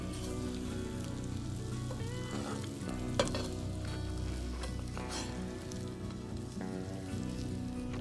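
Eggs frying in a skillet over a campfire, a continuous crackling sizzle with occasional sharper pops and a brief scrape.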